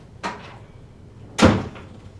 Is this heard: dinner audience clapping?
no